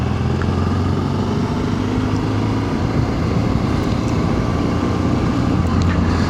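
Honda Africa Twin motorcycle ridden at night: a steady, continuous engine drone with rushing wind noise, close and constant throughout, without talk.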